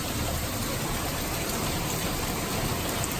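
A rain shower pours steadily outdoors in Surrey during thundery weather, an even, loud hiss of falling rain with no talking.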